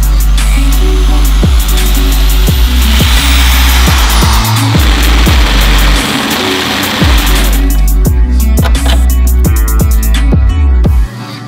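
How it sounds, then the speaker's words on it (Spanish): A loud power drill whirs continuously with rhythmic clicks, drilling into a car hood, close and steady, against a constant low engine-like hum, then stops abruptly at the end. "vamos a taladrar"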